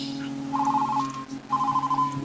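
A telephone rings in two bursts of a warbling electronic tone, each lasting about half a second and separated by a short pause, heard close over a steady low hum.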